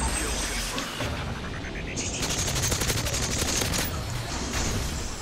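Rapid automatic gunfire bursts from a World War II–era gun in Call of Duty: WWII multiplayer, steady and loud through most of the stretch, with game voices and effects mixed in.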